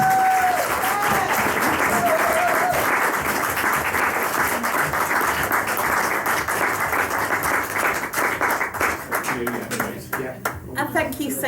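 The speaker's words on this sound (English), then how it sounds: "finish the evening in the traditional way with a round of applause" Audience at a book party breaking into a round of applause, steady dense clapping from a roomful of people over about ten seconds, with a voice speaking briefly at the start and the clapping thinning toward the end.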